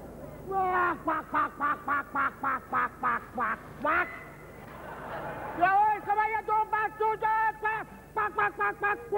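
A white-face clown imitates a duck with his voice, delivering a long rhythmic run of nasal quacks, a short pause with laughter-like breath, then another even string of quacks, close and loud.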